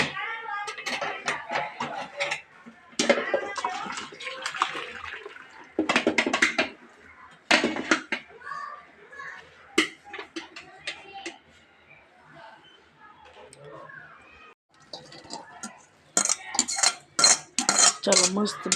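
Cutlery and pots clatter in bursts as boiled vegetables for pav bhaji, including potatoes and coriander, are scooped into a blender jar, with sharp metallic clinks and scrapes, busiest near the end.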